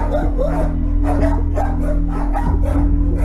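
Several dogs seized in a police raid bark and yip repeatedly at close range, sharp overlapping barks over a constant low engine or kennel hum, with occasional whimpers between bursts.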